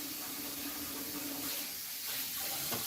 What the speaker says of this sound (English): Now it's forcing it down with hot water, scalding hot water.